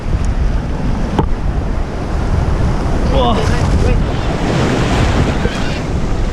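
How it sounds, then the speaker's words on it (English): High monsoon storm waves and strong wind off Malaysia's coast roar steadily and loudly, with broad surf crashing and heavy wind noise on the microphone, and a brief exclamation from a rider partway through. "The waves are so high,"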